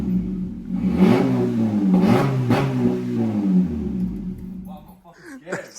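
A car fitted with an FK5 ProDrager Hyperflow exhaust revs hard in a rising, sustained engine roar that fades off toward the end, with people talking excitedly over it.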